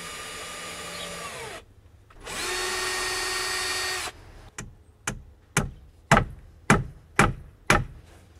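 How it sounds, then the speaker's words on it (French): A power drill drives screws through a piece of pallet wood to form a trap-door frame for a homemade chicken coop: two sustained whirring runs, then a series of sharp, evenly spaced knocks, close and loud. "Donc je vais visser ce morceau-là pour faire un cadre pour ma trappe."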